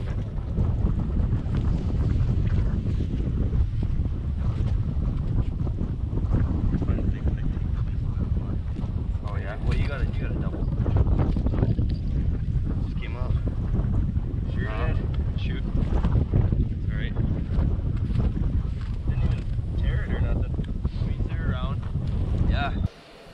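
Strong wind blows across an open frozen lake at the start of the ice fishing season, roaring steadily into the microphone as buffeting gusts, with occasional faint background sounds breaking through.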